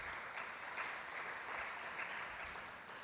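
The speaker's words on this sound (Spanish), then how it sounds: "un aplauso para María José, que va a ser nuestra moderadora hoy." An audience at a world forum on low-carbon cities applauds its moderator, steady clapping from a crowd that carries on evenly throughout.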